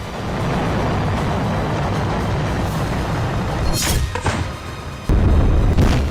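A loud, continuous roaring rumble with sharp bursts partway through, then a sudden heavier surge near the end, like a large explosion of several tons of munitions at a weapons depot in the Russia-Ukraine war zone and its aftermath.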